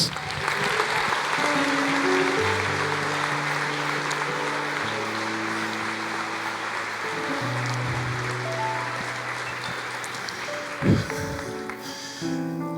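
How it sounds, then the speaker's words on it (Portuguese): Church congregation applauding steadily and fairly loudly throughout, a dense wash of clapping with a sharper burst near the end, while tonal sounds, likely music or voices, run underneath. "Aplauda mais."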